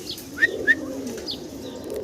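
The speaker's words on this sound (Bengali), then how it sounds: "দেখেন এক জোড়া কবুতর দেখাচ্ছি কি কবুতর দেখাইতেছি ভাইজান ভাই আমেরিকান লাক্ষা ভাই" American Shadel Lakha pigeons give soft, low cooing calls, steady and close, with a couple of brief higher chirps standing out early on.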